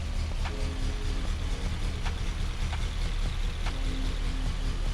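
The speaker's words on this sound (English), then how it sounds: "it's still brilliant to hear the car firing up" Peugeot 205 GTI engine with a ported and polished head running lumpy, a continuous low rumbling idle with an uneven pulse and faint ticks, loud and close with no talking.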